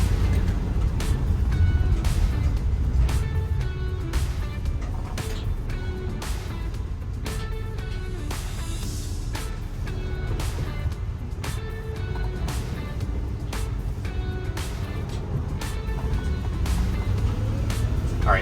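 A 2014 Ford E-series van drives along with overdrive switched off and downshifts into third gear, a steady low engine and road drone at moderate level without speech.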